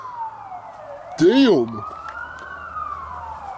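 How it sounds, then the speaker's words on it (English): Emergency vehicle sirens wail in a steady rising and falling tone across an outdoor scene at a large fire, with a man briefly exclaiming over them partway through. "I hear more sirens"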